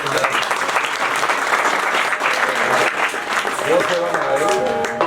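Worshippers at a Jahar Veer Goga Ji darbar clap together in a dense, continuous round of applause, with voices talking over it and a few tonal sounds near the end.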